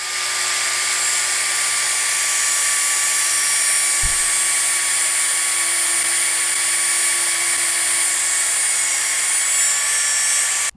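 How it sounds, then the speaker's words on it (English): A cutoff wheel spins at a steady high-pitched whine throughout as it cuts through a Mustang e-brake cable wrapped in masking tape, with a brief low thump partway through and no talk. "I think the best way to do this is probably to wrap it in masking tape and use the cutoff wheel to cut it"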